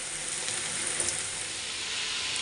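Sliced bitter gourd and potato fry in a hot pan, giving a steady, dense sizzling hiss throughout, with no talking.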